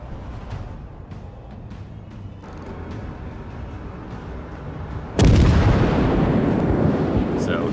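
Warship guns fire in the World of Warships video game as the heavy cruiser Takao opens up at long range, a sudden loud booming salvo rolling out after a quieter stretch of engine hum and ambience.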